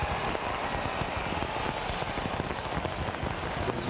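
Pouring rain hisses steadily over an outdoor college football game between West Virginia and Oklahoma State, a dense, even wash of drops with no clear voices.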